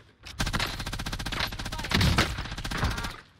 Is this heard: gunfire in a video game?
yes